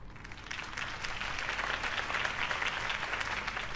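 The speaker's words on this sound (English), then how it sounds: "If only Mr. Wayne, my campaign's largest backer, could have heard that applause" Crowd applause after a campaign speech in the Batman video game, a steady, fairly quiet wash of clapping that holds evenly throughout.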